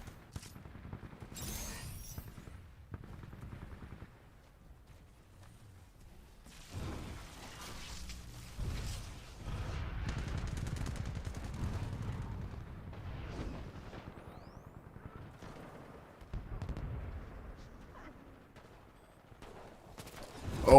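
Smart pistol shots pop sporadically in the video game Titanfall 2 amid a busy, fairly faint battle mix of scattered gunfire and rumbling explosions, with a sharp loud hit at the very end.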